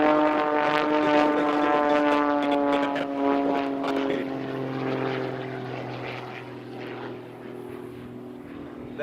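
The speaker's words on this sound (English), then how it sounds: "This engine has been pumped up to 330 horsepower with a Lycon engine." Pitts S2S aerobatic plane with its engine boosted to 330 horsepower, droning loudly and steadily with a rich harmonic propeller tone that shifts pitch slightly as it maneuvers through an aerobatic routine at a national competition.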